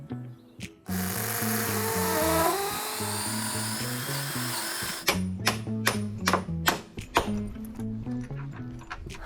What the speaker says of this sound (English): We're going to drill a hole to then insert our bolts and washers